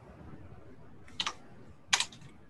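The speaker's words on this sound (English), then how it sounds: "Whoever's typing." Bursts of computer keyboard typing during an online meeting: two short clusters of key clicks, close to a microphone over a faint background hum, with no talk.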